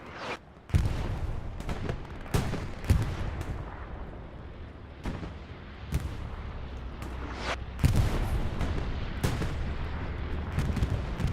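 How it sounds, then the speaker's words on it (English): Bombing-run explosions in the Hell Let Loose video game, a 49v49 match on the Pierre's Farm map, come as repeated heavy booming blasts at irregular intervals over a continuous rumbling battlefield background. "Bombing run is coming in from west to east."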